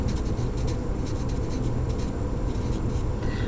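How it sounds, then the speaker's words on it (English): A marker or chalk writing on a classroom board during an algebra lesson, giving continuous scratchy rubbing strokes at close range without any talk. "so I'm just going to write as x increases"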